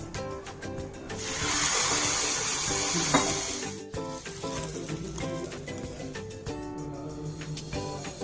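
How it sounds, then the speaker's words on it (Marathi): Water pours into a cooking pot of coconut and asafoetida tempering for dhokla, with a brief rushing splash, heard under soft background music. "आता ह्याच्यात थोडंसं पाणी वाचे"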